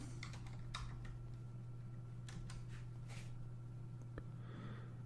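A computer keyboard is tapped in quick, quiet clusters of keystrokes, with a low electrical hum running steadily underneath.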